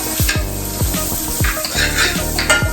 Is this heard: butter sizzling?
yes